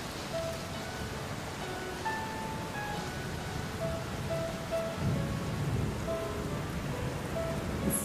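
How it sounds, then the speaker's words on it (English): Steady rain pours over a low rumble of thunder in a stormy sound effect, a constant dense wash of drops with faint distant rolls and no voices. "And he flew through the wind and the rain."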